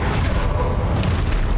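A Confringo fire spell in the video game Hogwarts Legacy, heard as a dense, noisy booming blast that fills the whole moment with no letup.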